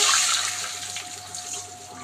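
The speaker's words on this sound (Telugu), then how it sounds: "దీంట్లో 1/2 గ్లాస్ వాటర్ వేస్తున్నానండి." Half a glass of water poured into a pan to start a sugar syrup for bread halwa, a steady close splashing pour that runs the whole stretch and tapers slightly toward the end.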